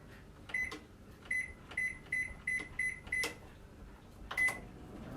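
A microwave oven cooking a chocolate lava cake gives a run of short electronic beeps, each followed by a thump or click, then a steady hum with one last beep near the end.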